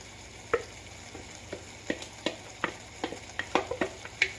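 Spoons mixing vegan Special K loaf ingredients with tofu in a bowl, giving irregular soft scraping and clacking strokes, close and moderately quiet, with no talk.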